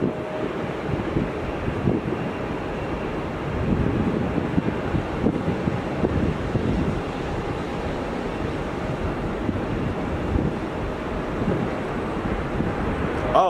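Very strong wind at Melbourne airport during a Boeing 717 rejected takeoff, a steady loud rushing roar buffeting the microphone throughout, with no speech.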